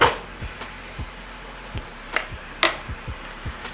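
Low-sodium soy sauce and jerk paste are stirred in a bowl, with soft, steady taps and light scrapes repeating at a quick, even rhythm, close but faint.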